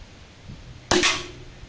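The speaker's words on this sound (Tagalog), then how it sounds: "So first shot po using Meteor pellets." Air rifle shot firing Meteor pellets, cocked once, at a 20-meter range: one sharp crack, loud and close, followed by a short decaying ring, then quiet.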